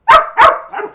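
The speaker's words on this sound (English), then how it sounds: "my dog wants attention, and he keeps, barking and snapping his mouth" A dog barks twice in quick succession, loud and close, then gives a softer third yip-like bark, all alone with no talk over it.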